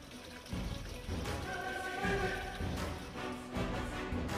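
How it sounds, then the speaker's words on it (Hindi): A waterfall between mountains, spilling into a rock pool below, gives a steady, full rushing wash of water that runs unbroken through the whole stretch, with faint tonal sounds drifting over it. "आगे बढ़े तो पहाड़ों के बीच एक झरना दिखाई दिया।"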